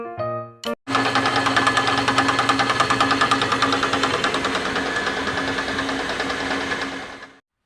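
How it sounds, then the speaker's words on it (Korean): A submersible pump runs as it moves pesticide solution from one tank to another for pepper plants. It gives a loud, steady mechanical drone with a buzzing, pulsing texture for about seven seconds after a brief clunk, then cuts off. "이제 이걸 수중 모터를 이용해 가지고요, 여기 있는 약을 저쪽 통 쪽으로 옮겨 담도록 하겠습니다."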